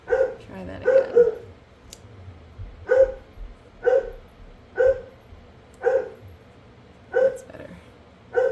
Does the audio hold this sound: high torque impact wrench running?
no